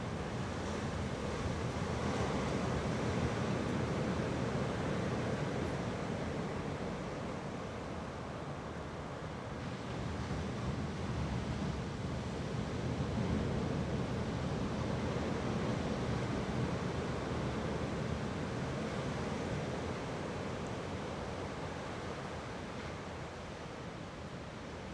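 Strong wind of about 120 km/h roars across a waterfront beach along Dallas Road in Victoria, BC, with waves breaking along the shore. It forms a steady, loud, broadband rush with no speech.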